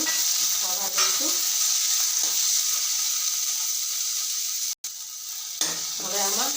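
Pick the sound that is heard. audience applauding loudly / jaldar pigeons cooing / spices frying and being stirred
spices frying and being stirred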